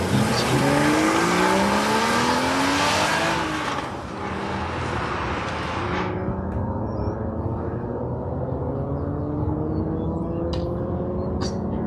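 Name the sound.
Mazda Miata autocross run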